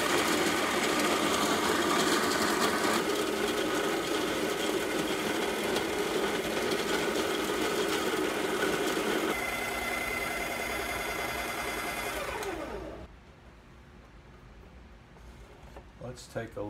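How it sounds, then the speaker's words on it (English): A burr grinder grinding coffee beans for French press, a loud steady whirring mechanical drone that runs for about twelve seconds before cutting off, leaving a quiet tail with a few small clicks. "Now this is a burr grinder, and if you have a similar machine, the number I use here is 24 for grinding."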